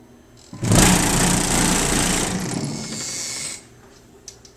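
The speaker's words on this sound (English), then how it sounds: "The shaker motor is pretty strong." The shaker motor of a Star Trek: The Next Generation pinball machine kicks on with a sudden loud, buzzing vibration, holds for about three seconds while gradually easing, then cuts off, leaving quiet background.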